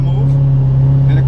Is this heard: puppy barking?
no